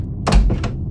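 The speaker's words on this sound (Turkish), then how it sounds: "Kapı kapanmadan önce kapı kapanma sesi geliyor bak" A door closes in the video game Asylum 77 with a low thud and two quick knocking clatters, close and moderately loud over a steady background hum.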